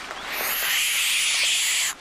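A baby barn owl in a wildlife rescue gives a loud, sustained breathy hiss at close range, held for nearly two seconds before cutting off abruptly.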